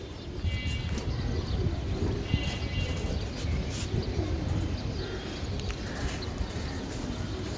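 Low, soft cooing from Giribaz pigeons, a long-flying breed kept for sale, repeats under continuous rustling and shuffling noise close by.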